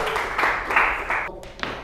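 Students in a sports academy lecture clap briefly, the close applause coming in uneven bursts that cut off abruptly.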